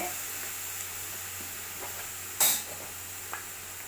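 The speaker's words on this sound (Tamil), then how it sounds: "இந்த கறியை போட்டு கொஞ்சம் ஒரு ரெண்டு நிமிஷம் அப்படியே தண்ணி போகிற வரைக்கும் நம்ம அப்படியே வறுத்துக்கலாங்க" Steady sizzling of minced meat frying in a hot pan, with one brief louder scrape or clatter midway.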